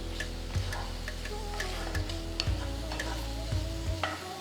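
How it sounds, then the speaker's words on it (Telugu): Tomatoes frying over a medium flame with coriander seeds, garlic, tamarind and rock salt, giving a steady close sizzle broken by regular clicking taps of a stirring spoon against the pan. "మీడియం ఫ్లేమ్లో టొమాటోలని మగ్గే వరకు బాగా వేయించుకోవాలన్నమాట"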